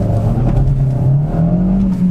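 A high-mileage Kia Proceed GT accelerates hard from 20 to 70 mph, its engine droning loud and close with the pitch climbing steadily throughout, no voices.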